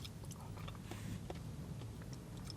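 Quiet chewing of soft diced tinned tomatoes from a takeaway full English breakfast, a few soft wet bites close to the mouth with no talking.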